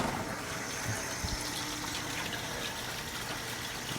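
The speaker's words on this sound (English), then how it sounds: "Now I just need to add water back into this aquarium" Water pours steadily into a fish aquarium during tank maintenance, a continuous close splashing gush that holds at even loudness throughout, with no voices.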